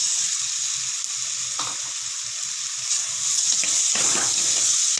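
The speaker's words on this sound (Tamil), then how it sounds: "இஞ்சி பூண்டு நல்லா வதங்கினதுக்கப்புறம் நறுக்கின ஒரு பெரிய தக்காளியும் ஆட் பண்ணிக்கலாம்." Ginger garlic paste and chopped tomato sauté in a pan for Chettinad mutton curry, giving a continuous close hiss with occasional soft scraping as the mixture is stirred.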